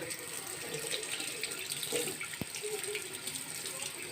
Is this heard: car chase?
no